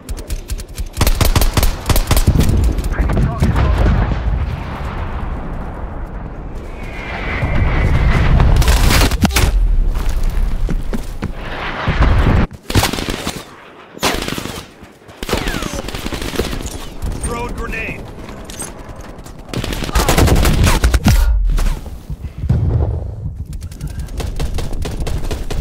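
Sentry turret gunfire in Call of Duty Black Ops Cold War during a Team Deathmatch round on Angola: long, loud automatic bursts and rattling fusillades with booming impacts, broken by brief pauses, with game voice callouts over it.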